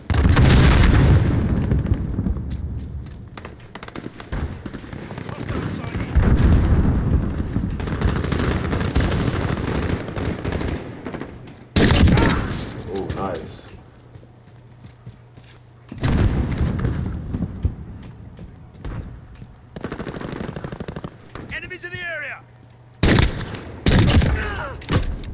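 Gunfire in Modern Warfare multiplayer: loud bursts of automatic fire and sharp single shots in repeated clusters, with explosive booms and brief quieter gaps between the firefights.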